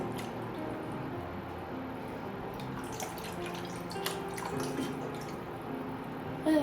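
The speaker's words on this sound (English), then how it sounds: "I have a cup of half and half I want to add." A cup of half and half is poured into a sauce for a leftover-turkey Kentucky Hot Brown, giving a steady, even liquid pour that runs through the whole stretch at moderate level without speech.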